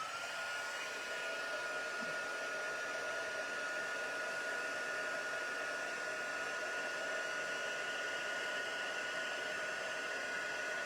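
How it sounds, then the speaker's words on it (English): Handheld heat tool melting gilded leafing for stamping crafts, a steady airy blower hiss at moderate level, constant for the whole span with no talking. "let's see if I can use my heat tool here."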